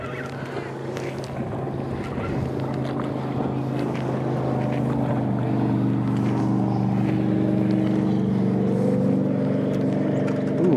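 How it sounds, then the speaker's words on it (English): Power boats pass on a busy river, giving a steady low engine drone that slowly builds in strength, with wind buffeting the microphone. "Power boats."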